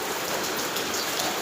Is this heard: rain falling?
yes